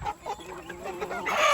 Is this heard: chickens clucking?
yes